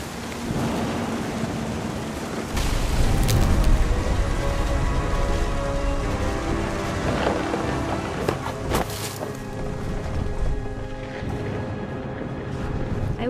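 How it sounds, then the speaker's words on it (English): Steady heavy rain pours through a thunderstorm in the video game What Remains of Edith Finch, with deep rolling thunder swelling early and further cracks later, loud and close, with no voices. "The thunder sounded much too close and full of angry power."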